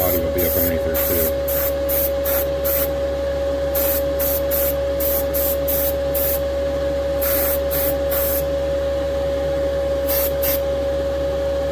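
A spray gun hisses paint inside the wheel well of a 1969 Dodge Charger body in repeated short bursts, each pass starting and stopping over a constant steady hum.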